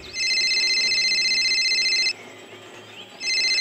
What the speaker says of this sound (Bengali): প্রাঞ্জলির কথাটা শেষ হতে না হতেই ওর ফোনটা বেজে ওঠে।